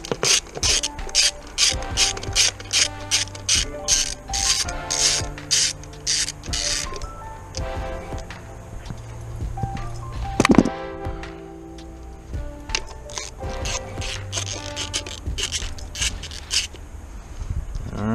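A ratchet loosens bolts on a 4.6L DOHC engine during intake manifold removal. Rapid rhythmic clicking bursts repeat close up, broken by a clunk and a brief pause before more ratcheting.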